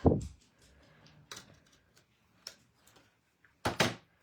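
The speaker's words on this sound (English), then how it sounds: "The dog pushed the door open." A dog pushes a door open indoors: a sharp thump and creak, then scattered light knocks and clicks, and a final louder bump of the door, close and otherwise quiet.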